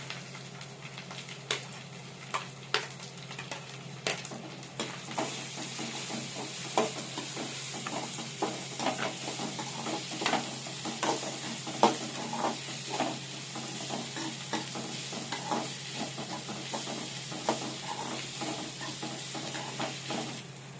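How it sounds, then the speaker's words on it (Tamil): Onions sautéing in a pan for masala semiya, a soft continuous sizzle broken by frequent light taps and scrapes of a stirring spoon. "இப்போ வெங்காயம் வதங்கிடுச்சு"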